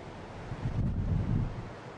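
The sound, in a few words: wind on a coastal cape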